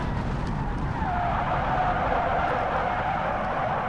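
A car in the driving game BeamNG spins out, producing a continuous rough skid and tire scrub under a steady engine roar, loud and unbroken throughout.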